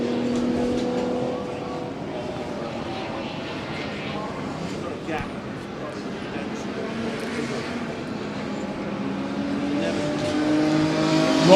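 A Jaguar C-type racing car at the Goodwood Revival, apparently suffering gear selection or clutch trouble, drones and revs steadily through the clip while a commentator talks over the engine noise.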